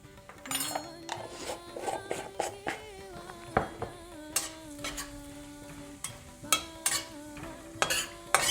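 Cumin seeds and a tiny pinch of hing frying in hot oil for spicy fried potatoes, with a steady sizzle broken by repeated stirring scrapes and clinks of a utensil against the pan, close up.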